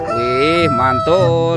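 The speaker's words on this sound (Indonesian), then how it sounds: "Yang ini ada ayam berkokok." Toy rooster's electronic crow, a single loud, close cock-a-doodle-doo with a wavering, drawn-out call, with a brief voice exclaiming over it.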